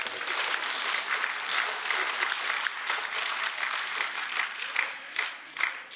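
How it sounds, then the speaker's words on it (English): MEPs in the EU Parliament chamber applaud and cheer in sustained, dense clapping that rises and falls in waves, with a few louder bursts toward the end. "we missed the very end of Mr. Farage's last speech because you were all cheering"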